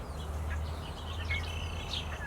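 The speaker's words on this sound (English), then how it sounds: "At least there's good background scenery and you can like hear birds chirping, right?" Birds chirp outdoors, with faint, scattered high calls over a steady low hum throughout.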